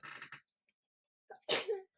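A single sharp sneeze, close and loud, follows a brief breathy intake.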